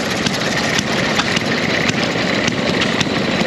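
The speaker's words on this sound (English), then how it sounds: "All these cool little engines." Small antique engines at a tractor gas-up show run steadily nearby with a continuous chugging drone and faint irregular knocks, with no talk.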